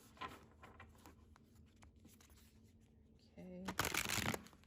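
Moonology oracle cards being shuffled, a soft papery riffle and slide that runs steadily with a louder burst of shuffling near the end; a voice is heard briefly.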